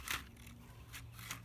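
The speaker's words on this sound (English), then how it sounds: "So you need to use a good pair of scissors. And you take the luffa and you cut off the ends." A good pair of scissors snips the ends off a dried luffa, giving a few crisp close cuts: a sharp one at the start and two more later, with no voices.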